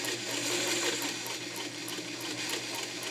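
A vintage all-steel Singer Fashion Mate 237 zigzag sewing machine stitches through leather at a slow, moderate pace, giving a steady whirring hum with a faint repeating needle tick, close and uninterrupted.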